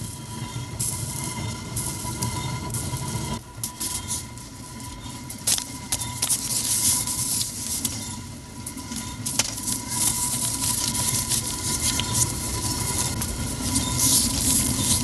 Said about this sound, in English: The stones is driven all from this one water wheel through this gear train.